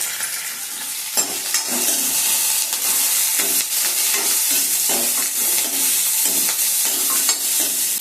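Green chillies, dals and curry leaves fry in a pan with steady, loud crackling sizzle, punctuated by repeated spoon stirs and scrapes throughout, no voices.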